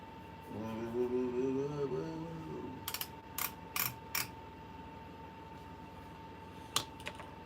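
An embroidery machine working through orders, a steady high whine with irregular mechanical clicks and ratcheting taps, while a voice speaks briefly at the start.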